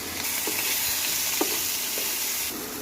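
Steady hiss of potatoes frying in a pan with a tempering of dried red chilli, bay leaf and nigella seeds, plus salt and turmeric, with a few soft clicks of a utensil, continuous and fairly loud throughout.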